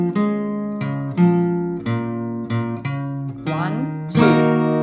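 A guitar plays an intro riff: a run of distinct plucked notes and strums with ringing sustain, a brief slide, then a final bright strum, heard alone and up close.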